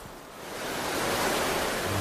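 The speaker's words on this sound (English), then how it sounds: "The gushing waterfall further upstream seems insurmountable." A gushing waterfall with salmon leaping upstream gives a steady, broad rush of falling water that swells slightly after the first half second and then holds loud and continuous, with no voices.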